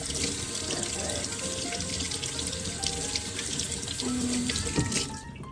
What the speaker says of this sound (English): all right, we're just gonna rinse the rest of our veggies. You wanna rinse with cold water.